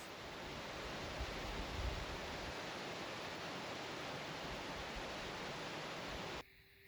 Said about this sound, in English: you can see how fast the water's moving and stuff. And they're really nice, picturesque little waterfalls.